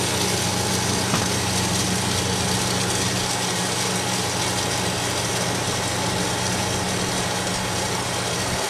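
A glassblowing torch flame heats glass being worked into a handmade tobacco pipe, producing a constant, even roaring hiss with a low steady hum beneath it, close and unchanging for the whole stretch, with no voices.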